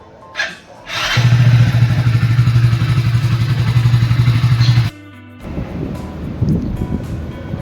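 A motorcycle engine kicks into life with a sharp start, then idles loudly and steadily at close range for several seconds before cutting out, followed by quieter rumbling and movement noise.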